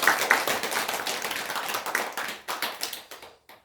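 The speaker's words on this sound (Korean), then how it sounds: "우리 큰 박수 한번 부탁드립니다" Audience applause at a Buddhist gathering, dense steady clapping from many hands that thins out and trails off into a few scattered claps near the end.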